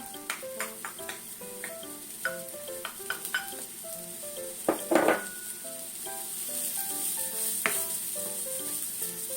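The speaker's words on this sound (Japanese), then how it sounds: "人参とネギ炒めましょう" Onion, carrot and green onion stir-frying in a pan for fried rice, a steady sizzle broken by frequent clinks and scrapes of a utensil against the pan.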